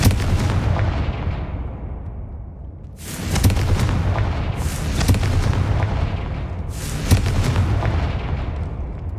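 Blasting spell explosions in Hogwarts Legacy, several loud booming bursts with long rumbling tails rolling one after another, heavy and close with no talk.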